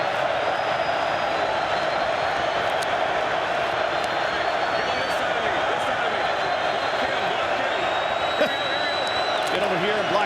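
A stadium crowd at an XFL football game on third down makes a broad, steady roar with scattered shouts, with a commentator talking over it throughout.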